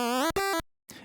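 An LSDJ chiptune lead on the Game Boy's second pulse channel plays a few short square-wave notes with a plucky buzz, then briefly drops out before a soft noisy tail.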